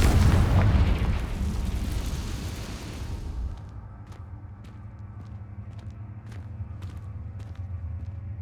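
A Confringo fire spell explodes in Hogwarts Legacy, a loud booming blast with heavy low rumble that fades over about three seconds, followed by sparse sharp crackles and pops over a lingering low hum.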